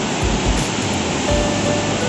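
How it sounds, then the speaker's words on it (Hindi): A dense, steady rush of falling water from a hot-water waterfall at Manikaran, Himachal Pradesh, fills the whole clip, loud and close, with no voices. "ये जो झरना बह रहा है"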